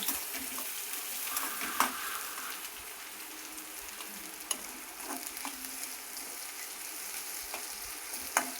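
Onion roasting in a pan for thecha gives a soft, steady sizzle with occasional light clinks and scrapes of stirring, fairly quiet and close.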